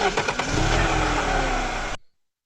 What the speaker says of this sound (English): There are engines running.